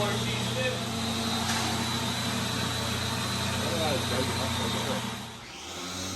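A leaf blower engine runs rough and breaks up, a steady mid-level engine drone that sags briefly near the end before picking back up.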